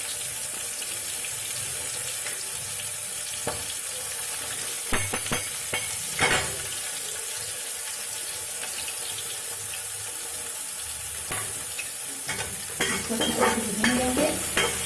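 Crushed ginger frying in a pan, a steady sizzle with occasional spoon scrapes and stirs, some watery bubbling toward the end, no talking.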